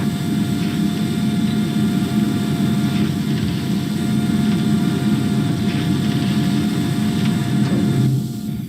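Aircraft engines running on the flight deck of the aircraft carrier HMS Illustrious, a constant loud low droning rumble with a steady whine on top, unbroken throughout with no talk.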